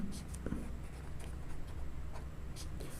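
A pen scratching on paper while working a class 10 linear equations problem, soft intermittent strokes close by under a faint background hum, with no talk.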